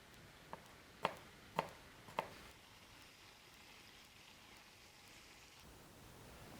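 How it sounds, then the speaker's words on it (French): A knife chopping a garlic clove on a board: four sharp, quiet knocks in the first couple of seconds, then only faint room hiss. "Coupez et hachez la gousse d'ail"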